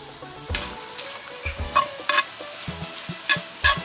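Mushrooms are stirred in a hot cast iron pan on a grill, with applewood smoke chips added. The hiss of frying runs underneath several scraping, clattering strokes of the utensil against the iron.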